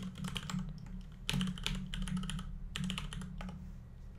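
Rapid typing on a computer keyboard while logging in to a website admin panel, in three dense bursts of close, clear key clatter separated by short pauses, with no talking.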